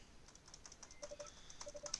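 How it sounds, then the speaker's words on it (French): Rapid, frantic typing on a computer keyboard, a steady stream of quick clicking keystrokes with a few sharper taps, recorded close and fairly quiet with no voices. "vous m'entendez taper frénétiquement sur le clavier"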